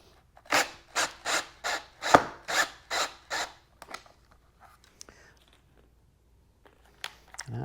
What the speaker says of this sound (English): I'll make sure I countersink it to give it a smooth surface